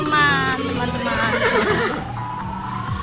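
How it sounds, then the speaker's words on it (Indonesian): A horse beside a delman, a horse-drawn cart, gives a wavering whinny amid busy outdoor noise with passing traffic and some nearby voices. "Oh, itu kuda."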